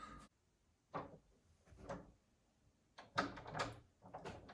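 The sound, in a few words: stuck door being tried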